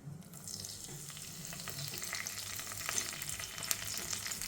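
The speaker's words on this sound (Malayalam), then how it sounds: "അതിന് വേണ്ടിയിട്ട് കുറച്ച് എണ്ണ ചൂടാക്കാൻ വെച്ചിട്ടുണ്ട്. ഇതിലോട്ട് നമുക്ക് കുറച്ച് ചെറിയ ജീരകം ഇട്ട് കൊടുക്കാം" Cumin seeds and curry leaves sizzling in hot oil in a pan, a soft continuous crackle and hiss with scattered tiny pops, fairly quiet and steady throughout.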